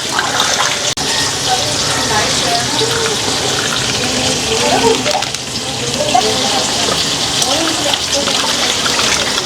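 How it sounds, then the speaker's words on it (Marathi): Fish are rinsed in water to strip off their scales, with steady splashing and running-water noise close by and continuous throughout. "दोन तीन वेळा चांगली धुवून घेऊया. एकदा मीठ लावून पण धुवून घेऊया."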